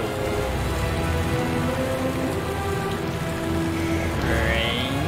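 Steady rain falling in the video game Predator: Concrete Jungle, a dense continuous patter with faint tonal game sounds and a rising tone near the end, no speech.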